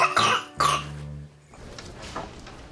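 A dog coughing at the vet's, two harsh hacking bursts close by followed by a quieter rasping breath, with no talking.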